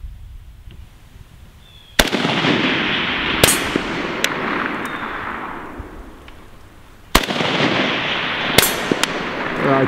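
Two sharp, loud rifle shots from a Century Arms VSKA AK-47 fired at steel targets outdoors, each crack followed by a long rolling echo, with a faint distant ping or two after each shot.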